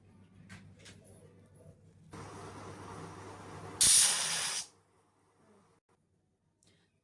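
A pressure cooker cooking carrots vents steam in a loud, hissing whistle burst lasting under a second, after a stretch of softer background hiss and before near silence.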